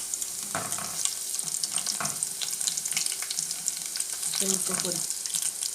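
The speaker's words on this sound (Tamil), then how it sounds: "இப்போ பூண்டு பல் தட்டி வச்சு நம்ம எண்ணெயில் போட்டு எடுத்துடலாம்." Crushed garlic cloves fry in hot oil in a home kitchen, giving a steady, close hiss and sizzle with faint spattering and a few brief clinks throughout.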